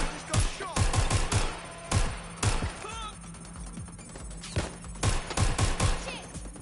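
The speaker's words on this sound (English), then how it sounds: "Just got shot." Bursts of gunfire from the Watch Dogs Legion video game, a run of loud, sharp shots in irregular clusters with short pauses between volleys, fairly close, with no talk over them.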